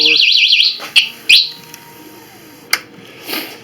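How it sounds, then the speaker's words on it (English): Alarm on a Harley bagger motorcycle chirping as it is set with the key fob: a warbling electronic tone at the start followed by a few short chirps and clicks, fairly close, with no talk. "when you shut it off, if you got the key fob, it should chirp"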